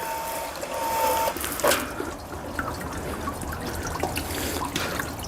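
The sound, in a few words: rainwater running off a field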